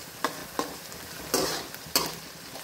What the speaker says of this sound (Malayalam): കുറച്ചുകൂടെ ഒന്ന് ഉള്ളി ചമന്ന് വരട്ടെ